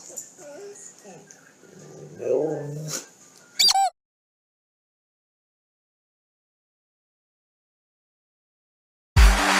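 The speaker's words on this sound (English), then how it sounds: "the dog's in here. I heard it." A dog whimpers and yips in a series of high, wavering cries for a few seconds, followed by a sharp loud bark burst, then silence and another loud close burst at the end.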